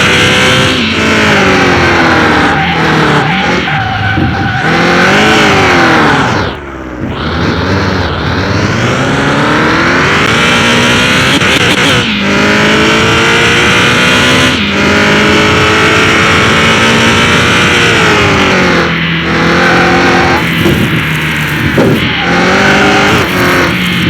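A 1200HP Dodge Viper spinning its semi-slick tyres, with loud sustained engine roar and rising revs, near and continuous, one brief dip midway.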